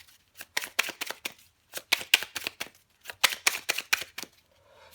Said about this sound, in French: je prends encore une carte pour vous, les vierges